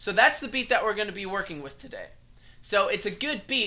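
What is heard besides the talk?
No everyday noise stands out behind the speech.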